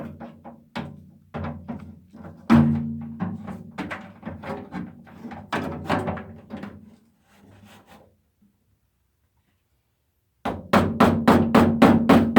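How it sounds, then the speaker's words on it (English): Wooden blocks tapping and rubbing door window channel rubber into place on an Opel GT, close irregular knocks and scraping, then a pause of near silence before a fast, steady run of sharp taps at the end. "I'm going to use various blocks of wood to get it seated all the way in."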